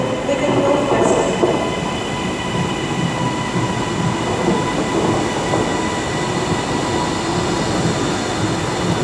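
Trains at Liverpool Lime Street station on the West Coast Main Line, a loud continuous rumble of rolling stock filling the station with a steady metallic drone, faint wheel squeal and clatter throughout.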